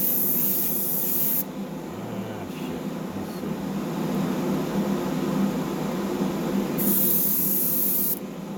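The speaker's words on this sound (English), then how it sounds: "Light on the spray." Metallic spray paint hissing from an aerosol can onto a small Matchbox Chevrolet Impala die-cast model, a steady close spray running for several seconds with short pauses, the bursts starting and stopping cleanly.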